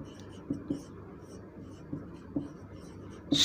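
Chalk or marker strokes on a board during a geometry lesson on parallelograms and trapeziums: faint, scratchy taps and short strokes at an uneven pace in a quiet room.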